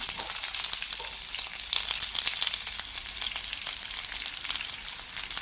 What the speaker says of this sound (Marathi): कांदा मऊ होईपर्यंत आपण तो फ्राय करून घेणार आहोत